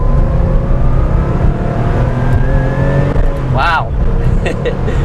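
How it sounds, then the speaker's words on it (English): A Porsche RS, either a 964 or 993, accelerates hard at full throttle, the engine droning steadily up close from inside the cabin, with a short voiced exclamation near the end. "So with the throttle fully down, I mean, it's, you know, I'm giving it all it has"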